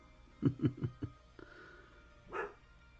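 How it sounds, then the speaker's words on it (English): A dog barks four times in quick succession, fairly close, followed by a short pause and one more muffled bark. "I don't know what she's barking at."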